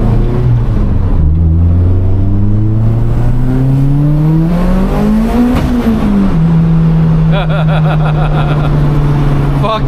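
BMW 335i racing, its engine revving loud and close with rising and falling pitch sweeps as it accelerates through gears, faint voice briefly underneath.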